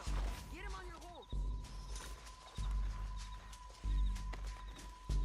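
Horse hooves in Red Dead Redemption 2 gameplay thud in repeated heavy bursts over rumbling game ambience, with voices talking and a steady tone running throughout.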